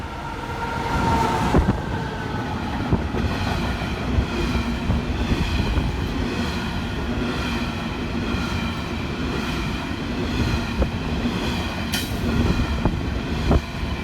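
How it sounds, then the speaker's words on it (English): An empty Horizons coal train rolls past in New South Wales, a steady rumble of wagons with rhythmic wheel clatter and occasional squeals, fairly close and continuous, with no talking. "an empty Horizons coal train can be seen passing through"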